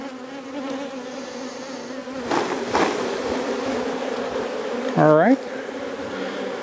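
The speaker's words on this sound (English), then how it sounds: "Hopefully the other bees will just make their way back over here." Honeybees shaken from a hive frame buzz in a dense, close swarm, a continuous hum with a few louder passes, while a voice speaks briefly.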